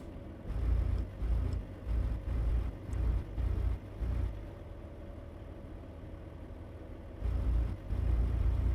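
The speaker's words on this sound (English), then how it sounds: "Do like the way this truck sounds, that's for sure." A truck engine from American Truck Simulator rumbles low and steady, swelling in a series of rhythmic surges before settling to a quieter idle, then rising again near the end.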